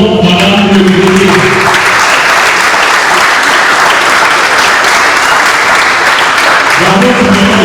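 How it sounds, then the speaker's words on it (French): An audience gives a delegate an ovation at a school event, with loud, dense clapping that holds steady for several seconds before tapering, and a voice speaks briefly at the start and end. "nous allons demander de faire une ovation à madame le délégué"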